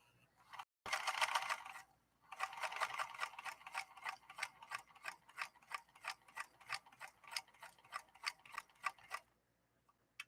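A 1958 Singer 222K sewing machine stitches in a steady, rapid mechanical patter, starting with a short whirring burst, pausing, then running in an even rhythmic series of needle clicks before stopping; close and fairly quiet, with no talking.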